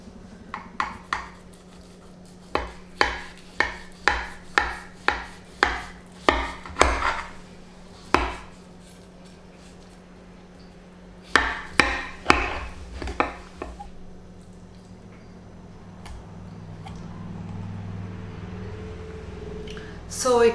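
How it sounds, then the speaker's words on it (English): A knife cuts through a baked creamy cheese one-pot dish fresh from the oven, giving repeated close, sharp taps against the pan or board in steady bursts, pausing, then a second quick run of cuts with a soft hum underneath. "So let's cut it and see how it looks like."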